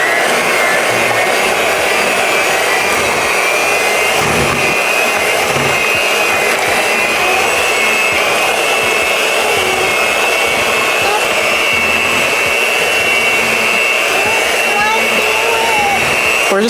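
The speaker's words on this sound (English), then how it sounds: "We're just gonna mix this for maybe another like few seconds." An electric mixer whirs steadily and loudly for a long stretch, beating sweet potato pie filling in a kitchen with a continuous high motor drone.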